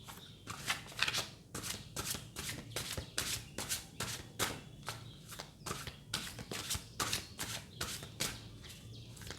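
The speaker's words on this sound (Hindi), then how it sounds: "जब तक मैं कार्ड शफल कर रही हूँ" Tarot cards shuffled by hand in a steady run of quick riffling bursts, close and clear with no talking over them.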